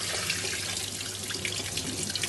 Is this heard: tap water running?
yes